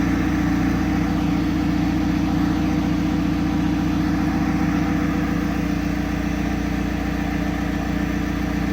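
An Audi A4 1.9 TDI diesel engine runs at a steady idle after repair, a continuous low rumble with an even rapid knocking pulse, close and loud with no voices.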